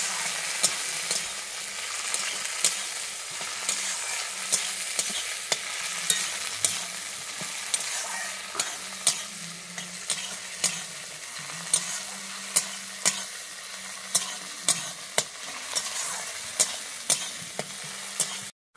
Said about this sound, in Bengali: আমি টমেটোটাকে ভালোভাবে ভেজে নিচ্ছি।